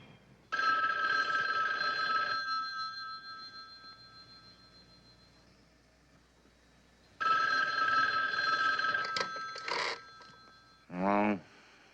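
A telephone bell rings loudly in two long bursts several seconds apart, the second followed by brief clatters and a short voice at the end.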